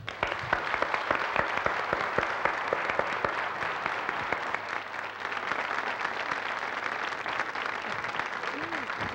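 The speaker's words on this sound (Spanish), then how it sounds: "Un aplauso para él." Studio audience applause for journalist Hernán Olguín on a 1981 television variety show, a steady broad wash of clapping lasting throughout with faint voices beneath.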